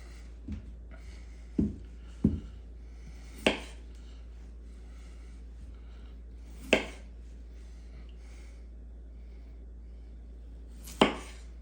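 A knife cuts through potatoes on a board, making a few sharp, sparse thuds spaced irregularly. The cuts are close and clear over a quiet low hum, and no one speaks.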